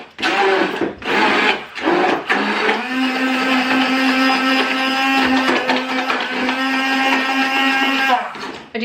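Stand mixer whirring steadily as it beats a large batch of banana bread batter, a loud continuous motor drone after a few short starts, with brief voices in the background.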